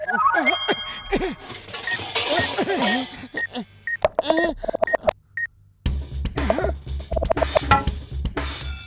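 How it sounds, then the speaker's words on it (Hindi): A bell rings in a Hindi Motu Patlu cartoon, with several bright dings standing out among lively character voices, background music and comic sound effects. "घंटी बजाना मना है। अरे क्यों मना है? मैं तो बजाऊंगा।"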